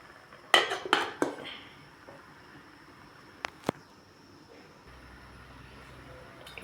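A metal lid clanks down onto a cooking pot of shrimp sinigang with several sharp rattles, followed later by two faint clinks and quiet kitchen background.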